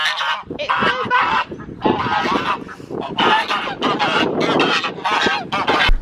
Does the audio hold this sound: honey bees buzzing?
no